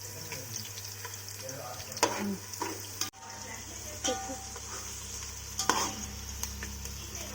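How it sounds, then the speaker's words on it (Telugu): Onions fry gently in a pan for uggani, a soft steady sizzle with occasional stirring scrapes and clinks, plus a sharp knock midway and faint running water in the background. "ఉల్లిగడ్డ ఇట్లా లైట్గా వేగాలి"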